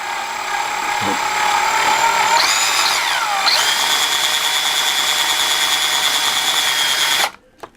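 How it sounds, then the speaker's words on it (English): A loud power drill whines steadily, its pitch shifting as it bites through a metal rivet, then cuts off abruptly at the end. "Stick it right on top of the rivet, and then I hold it from the bottom, and then I can drill it out"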